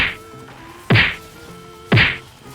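Melee strikes from a Prismatic Hunter in the Destiny 2 video game: two hard, punchy thwacks about a second apart, each landing loud and close over a quiet hum of game ambience.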